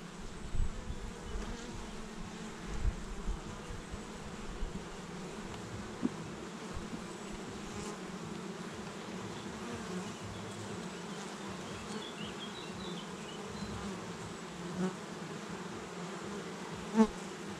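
Honeybees buzz steadily around a hive during an inspection, a dense droning hum with occasional closer passes, quiet and continuous throughout.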